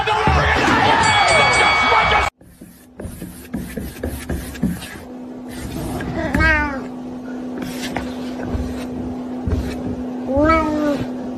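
A cat meows loudly and repeatedly in a room, several drawn-out rising and falling cries, preceded by a burst of noisy game commentary and cheering.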